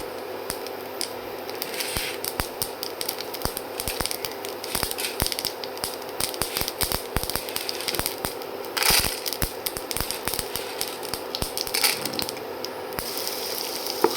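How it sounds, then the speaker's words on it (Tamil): Chana dal, ginger, chillies and curry leaves fry in hot oil with mustard seeds for savoury rice kozhukattai, giving dense, continuous crackling and popping close up, with no voices. "கடுகு பொரிஞ்சதும் பாருங்கள் கடலைப்பருப்பு இஞ்சி மிளகாய் கருவேப்பிலை இது எல்லாத்தையும் போட்டு இது கூட நல்லா வதக்கி எடுக்கணும்"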